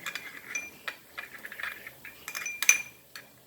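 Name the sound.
mixing prawn ingredients together in a dish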